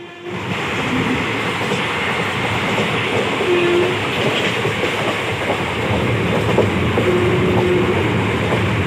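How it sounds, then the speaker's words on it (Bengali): Heard from on board, the Lalgola-Kolkata Dhanadhanya Express runs at about 110 km/h with a loud, steady rolling rumble and faint wheel clatter throughout, and no voices. "লালগোলা কলকাতা ধনধন্য এক্সপ্রেস ইতিমধ্যে দেখতে পাচ্ছেন যে একশো দশ কিমি গতিতে ছুটে চলছে এই ট্রেন"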